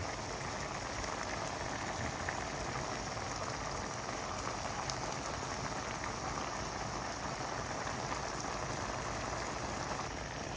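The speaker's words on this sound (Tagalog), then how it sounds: "Nailagay ko na rin po ang ating kamatis. Ayan po. Igisa-gisa lang po natin." Tomato and vegetables sautéing in a pan for a Filipino ginisang gulay, a steady close sizzle and crackle that holds evenly throughout with no voices.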